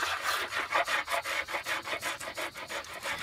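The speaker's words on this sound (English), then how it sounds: "I'm using a spoke shave here." A spokeshave shaves wood on a shave horse while a paddle shaft is shaped, giving a steady run of rhythmic rasping strokes, about four per second, close and clear with no talking.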